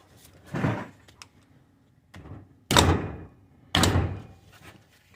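A few hammer taps knocking out the hub seal of a trailer wheel hub, with lug nuts threaded on the studs: three or four separate dull thunks spaced over several seconds, fairly close and with no talk.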